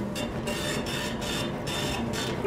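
A video game printer in Borderlands: The Pre-Sequel runs with a rhythmic mechanical chugging, short repeated bursts of whirring at an even pace, steady and moderately loud with no voices.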